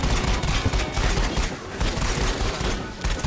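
Gunfire in the VR game Raw Data: loud, continuous rapid shots in a dense barrage, close and harsh, with no talk.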